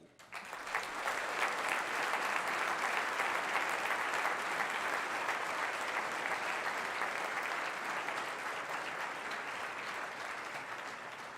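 An audience applauds to welcome Andrew Klavan onto a stage: steady, full clapping from a large crowd rises quickly and holds for about ten seconds, tapering only slightly at the end.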